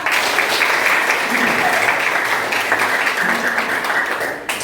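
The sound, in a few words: children clapping hands in class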